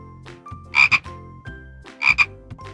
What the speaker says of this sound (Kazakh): Жасыл құрбақа. Ква-ква, ква-ква.